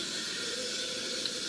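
Warm water runs steadily from a bathroom tap into a sink, a constant close hiss of flowing water with no talking.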